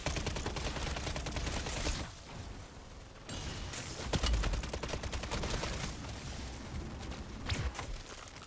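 Automated turret gunfire in the Call of Duty MW3 Zombies mode rattles in sustained, dense bursts, pausing briefly before resuming, with a few heavier booming hits mixed in.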